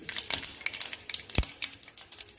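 Mustard seeds and cumin crackle and sizzle in hot oil for a tempering, with scattered sharp pops, one loud thump partway through and faint clinks of a utensil, close and without talk.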